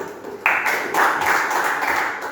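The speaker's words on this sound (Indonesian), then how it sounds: "Tepuk tangan dulu." A small group of students in a classroom claps together briefly, a short burst of close, bright hand claps after a quiet moment.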